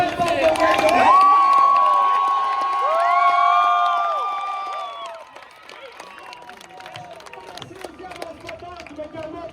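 Sold-out crowd at a DMCC car event roars and cheers, loud and dense at first with whistles, then easing into a quieter murmur while a voice talks over it.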